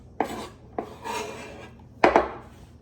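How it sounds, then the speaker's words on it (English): A knife chopping an onion into medium-sized pieces on a cutting board: three distinct close cutting strokes with brief scraping, sharp attacks and short rasping tails, with no voice. "So I'm going to cut in kind of medium-sized pieces"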